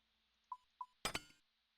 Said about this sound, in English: Like you can hear like the gear clinking